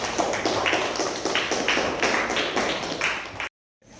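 A group in a classroom claps in a dense, rapid patter of hands that lasts a few seconds and then stops abruptly.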